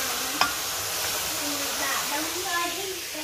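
Vegetables and cauliflower frying in a pan give a steady hiss, with a short sharp clink near the start and faint background voices beneath the sizzle.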